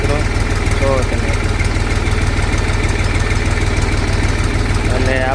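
A tractor engine idles in a groundnut field during harvesting, a loud steady low throb with a fast rhythmic beat running throughout, while voices talk over it.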